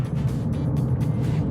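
A Tata Punch CNG car rolls slowly in neutral through highway traffic, a steady low engine and road rumble heard from inside the cabin throughout, with no voices.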